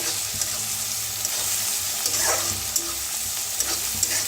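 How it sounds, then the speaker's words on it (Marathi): Crushed ginger, garlic and green chilli fry in a pan, giving a steady close sizzle with occasional soft stirring scrapes and no voices. "आता अद्रक लसूण मिरची सगळी चेचलेली मी वापरलेली आहे। तर छान असं भाजून घेऊया।"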